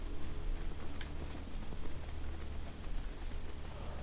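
Horse hooves clip-clopping in the video game Assassin's Creed 2, faint and steady under a dense layer of ambient game noise, with no clear individual footfalls standing out.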